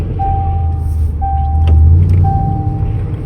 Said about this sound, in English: this car just sounds like a beast